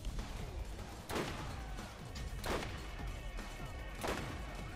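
Grenades going off in Borderlands, three or four separate booming blasts spaced about a second and a half apart, each a sharp crack decaying into rumble over steady background game noise.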